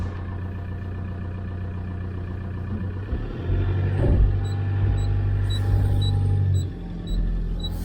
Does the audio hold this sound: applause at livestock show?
no